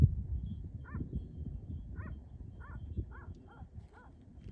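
Faint whimpers and short yips from tired black Anatolian shepherd dogs repeat several times over low rumbling background noise on the open steppe, with no clear barking.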